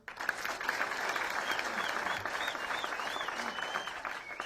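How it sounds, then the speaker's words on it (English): An audience claps steadily for a guest at a gathering, a dense, even wash of applause held throughout, with faint voices in the background. "You can clap for him."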